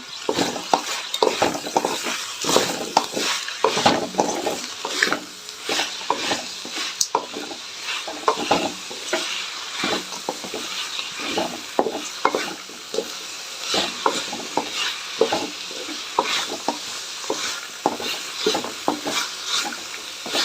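Tamarind gravy for a Rayalaseema-style hotel curry, salted and left to cook down in a pan, stirred with steady scraping strokes over a continuous soft sizzle, close and moderately loud, with no talking.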